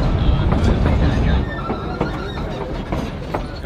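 Passenger train rolling along the rails on a scenic American route, a steady loud rumble with faint wheel squeals and clicks running throughout, no voices.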